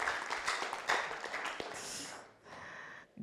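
An audience at a celebration summit claps together, a thick round of applause that fades out and then picks up again briefly near the end.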